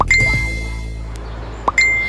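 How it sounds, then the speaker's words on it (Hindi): A phone gives a message notification tone while a car is being parked at a hotel: two short, bright electronic beeps about one and a half seconds apart, clear and close over a low steady hum. "तभी उसके फोन पर एक बीप की आवाज हुई"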